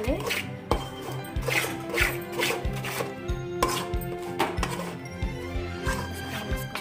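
A spoon knocks and scrapes steadily against a pan while stirring Mysore pak mixture, giving a close, regular clatter with faint voice in the background.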